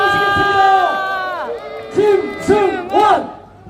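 A crowd at a Democratic Party Gyeonggi provincial chapter launch rally cheers and shouts in loud, swelling bursts, several voices whooping together in a large hall.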